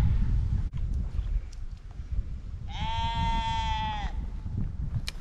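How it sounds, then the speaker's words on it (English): A single drawn-out sheep bleat, clear and fairly close, lasting over a second against wind and low rumbling outdoor noise. "the sheep is just there by itself. Maybe it's calling for company"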